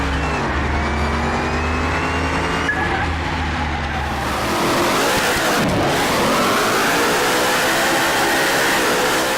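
In a drag racing video game, a car engine roars and revs steadily, loud and continuous, with a rising whine and tire noise as it accelerates.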